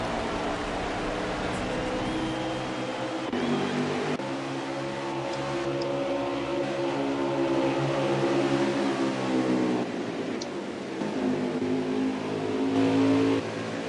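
Electric motor whine from a Cobra racing truck lapping the track at Phoenix, rising and falling in pitch through acceleration and lifts, close and steady with no talking over it.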